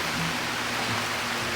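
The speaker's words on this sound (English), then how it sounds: "Nothing like cooking in the rain." Steady rain falls at a campsite during breakfast cooking, a continuous even hiss with a faint low hum underneath and no clear voices.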